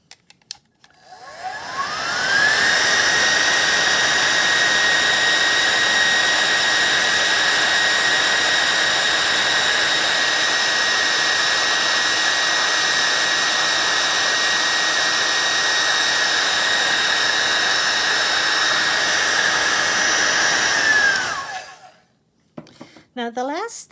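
Heat tool blowing steadily over a watercolor painting, a loud close roar and whine that spins up, holds for about twenty seconds and winds down, with no talking.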